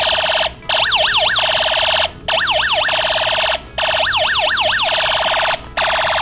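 An electronic siren from a Snap Circuits Jr. light siren circuit wails loud and steady, rising and falling in fast sweeps, with brief dips between bursts and no talk.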